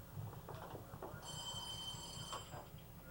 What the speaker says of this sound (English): there's the phone, and I better answer it